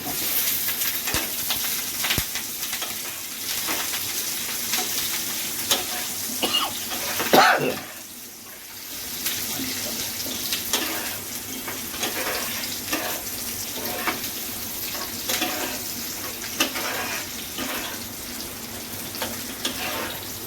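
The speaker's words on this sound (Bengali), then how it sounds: "তেল ছিটে গেছে" Oil sizzles and spits in a frying pan on a home stove, a continuous crackling hiss with scattered sharp pops and one brief lull partway through.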